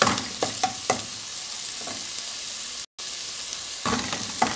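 Cumin and pepper fry in a hot seasoning base, a soft steady sizzle with a few sharp stirring clicks and taps near the start and end, and no voices.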